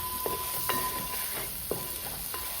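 A spoon scrapes and stirs conch stir fry with chili and coriander powder in a pan, four soft strokes over a steady, quiet sizzle of frying.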